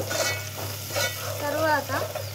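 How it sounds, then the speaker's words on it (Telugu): Ginger and turmeric fry and sizzle in a pan while being stirred, with soft scraping strokes over a constant close hiss. "అల్లం వేగాక కొంచెం పసుపు వేసి కలుపుకోవాలి"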